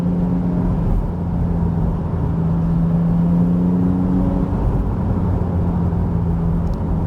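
A Porsche Spyder sports car engine idles with a deep, steady rumble, loud and close throughout, no voices.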